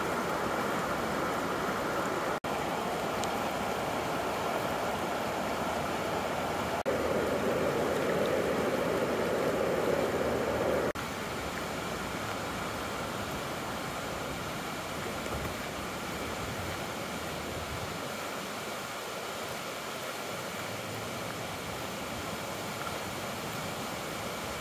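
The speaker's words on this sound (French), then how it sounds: "J'ai passé l'après-midi sous le son de la cascade." Kabir Kouba waterfall on the Saint-Charles river roars as a steady, broadband wash of falling water, constant and fairly near, with no voices over it.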